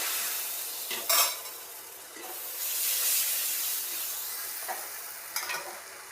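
Moong dal halwa stirred in a pan as milk is added, a soft continuous sizzle and hiss broken by a few sharp scraping clinks of the spoon, close and fairly quiet, with no talking.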